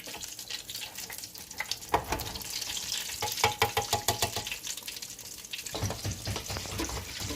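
Egg rolls fry in hot oil in a pan, a steady crackling sizzle with sharper pops and clinks as they are turned, close and fairly loud.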